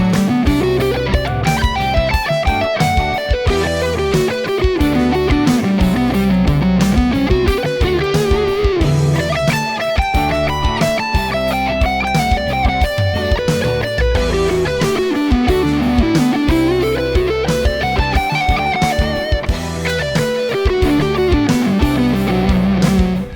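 An electric guitar with distortion plays flowing two-notes-per-string major seventh arpeggios over a full backing track, with continuous rising and falling note patterns throughout.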